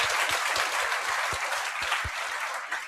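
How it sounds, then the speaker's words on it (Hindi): An audience applauds at a seminar, dense clapping from many hands close by, steady and then tapering slightly toward the end. "आप सबके लिए एक बार बहुत जोरदार से तालियां बजा दीजिए"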